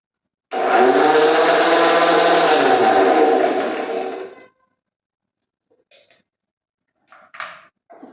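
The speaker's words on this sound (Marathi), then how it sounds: "आता मी थोडंसं पाणी घालून फिरवून घेते म्हणजे स्वच्छ होईल मिक्सरच्या भांड्यात" A kitchen mixer grinder whirring with a little water in its jar after grinding chutney, a loud steady motor spin of about four seconds that cuts off, followed by faint clinks and handling noises.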